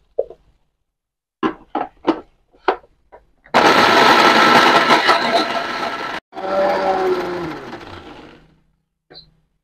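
A kitchen mixer grinder loudly grinds garlic and peeled onions without water in two long bursts, about three seconds each, after a few short knocks and clicks, with a brief stop between the runs.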